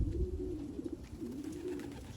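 Racing pigeons coo steadily in a loft, a soft repeated throaty warble running throughout at moderate, close range with no talking.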